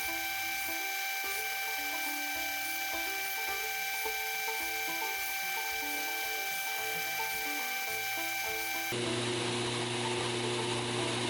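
A belt grinder shapes the bevels of a scalpel made from a farrier's rasp, with a steady motor whine and tonal hum, grinding contact that varies under it, then a sharper shift near the end.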